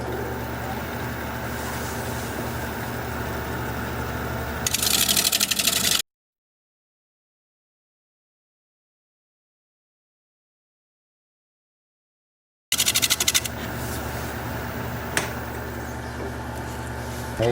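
Pull cuts with a gouge along the edge of a natural live-edge alder bowl on a wood lathe: a steady motor hum under broad, hissing cutting noise, in two sustained stretches split by a long silent gap.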